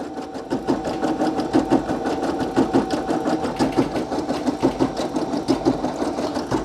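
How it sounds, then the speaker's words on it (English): A Brother PE800 embroidery machine stitches a Ghostbusters patch, giving a loud, close, continuous mechanical whir with a fast, steady rhythmic chatter of the needle throughout. "this is a 17-minute stitch out for this color"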